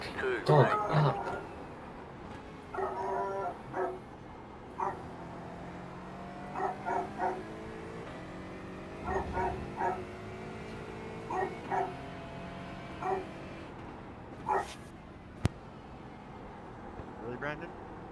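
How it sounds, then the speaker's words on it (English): A dog barks and yips in short bursts spaced through the stretch, moderately loud against a quieter background, while people talk indoors in the same room. "Shut the fucking dog up."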